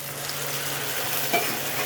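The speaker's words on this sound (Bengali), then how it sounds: "এই মশলাটা কষতে হবে এখন, যতক্ষণ না এই গায়ে থেকে তেলটা বেরিয়ে যাবে।" Spice masala for butter chicken stir-fried in hot oil gives a steady, close sizzle with soft scraping of a spoon through the pan and a brief clink near the end.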